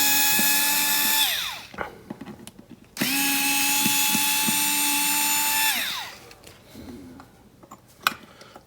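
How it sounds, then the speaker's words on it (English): An electric power tool backs screws out of the jack socket on a right-handed Stratocaster guitar, giving two sustained whirring bursts with a pitch that drops as each one winds down, plus small clicks and handling knocks in between. "let's take off the screws for the jack socket"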